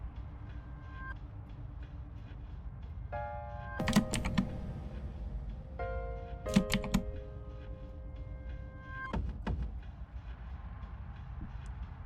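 Typing a username on a computer keyboard, quiet scattered key clicks under a low steady background with tonal electronic chimes and bleeps from a game or computer.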